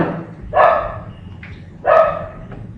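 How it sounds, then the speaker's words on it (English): A dog outside a classroom barks twice, a pair of sharp, fairly loud woofs about a second apart, with a small yip between them over quiet room tone. "you will hear this dog barking"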